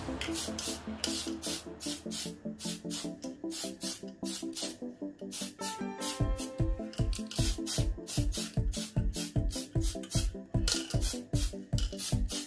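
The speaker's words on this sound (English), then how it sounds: "I'm going to spray nice even coats and rotate the model in all directions as I do this." Tamiya surface primer sprays from an aerosol can onto a scale model in short repeated bursts, steady rhythmic hisses close to the microphone, with a faint tune playing underneath and no talk.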